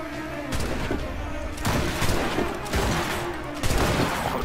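Gunfire in the video game Assassin's Creed Rogue, during a fort battle: heavy shots crack out roughly once a second, four in a row, over a dense, noisy battle backdrop.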